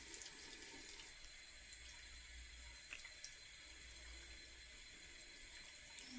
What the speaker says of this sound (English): And rinse it under the water.